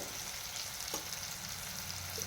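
Spices tempering in hot oil for a Maharashtrian dish, a soft continuous sizzle and crackle at low level, with a faint stir tap midway.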